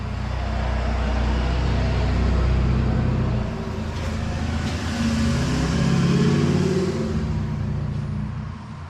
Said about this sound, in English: Listen to all the diesel trucks go by.